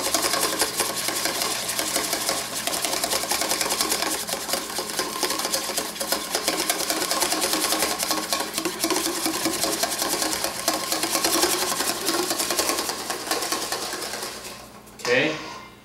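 A wire whisk beats an emulsion base in a bowl, a steady busy clatter of rapid strokes running nonstop for about fifteen seconds, close and fairly loud, before stopping.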